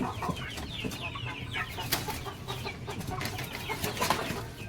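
Shamo chickens clucking in a coop, several birds giving short overlapping clucks and calls at close range over steady farmyard background noise, with no talking.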